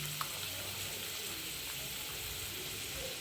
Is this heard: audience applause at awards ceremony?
no